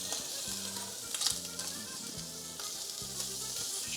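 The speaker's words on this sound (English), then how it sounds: "that bacon's crisping up good" Bacon frying in a pan on a stove, a steady close crackling sizzle running throughout, with brief spatters and a faint low hum underneath.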